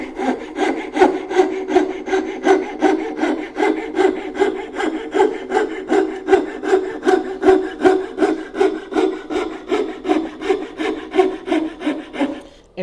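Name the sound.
fret saw cutting wood dovetail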